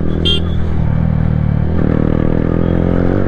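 A Yamaha R15M motorcycle engine pulls hard under acceleration, a loud, continuous buzzing drone whose pitch climbs steadily, close and dominant throughout.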